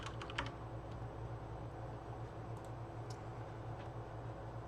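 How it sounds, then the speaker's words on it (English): Typing on a computer keyboard, a quiet, irregular run of soft key clicks over steady background hum, with no talking. "I'm typing in the wrong window"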